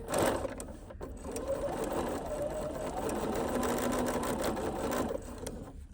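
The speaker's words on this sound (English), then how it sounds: "fold it right sides together, and just sew this tube, lining it up against the 1/4 inch foot" A sewing machine stitches a folded fabric tube along a quarter-inch presser foot, a steady close mechanical whir running almost unbroken for several seconds before it slows at the end.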